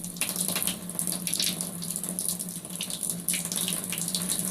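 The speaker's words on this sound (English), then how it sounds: "Drain the water out." Water rushes from a faucet as built-up pressure drains out of the lines after both valves are opened, a steady close hiss with a low hum beneath it.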